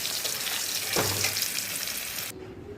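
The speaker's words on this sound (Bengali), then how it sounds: "আলুগুলো ভাজা হয়ে গেছে, এবার আলুগুলো তুলে নেব।" Potatoes fry in oil in a pan with a steady, close sizzle and a brief clatter near the middle; the sizzle drops away abruptly toward the end.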